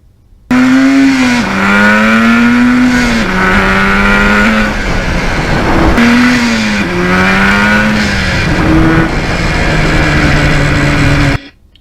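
A 1977 Yamaha RD400 two-stroke motorcycle pulls hard through its gears, the loud, close engine note rising in pitch, dropping at each shift and climbing again, sustained and unbroken with no talk.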